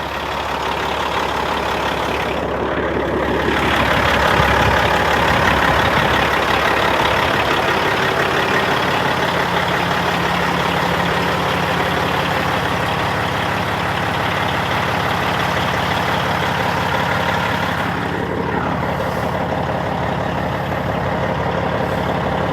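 A 2005 Peterbilt 379 semi truck idles steadily, a smooth, even diesel rumble holding at constant loudness throughout with no talking.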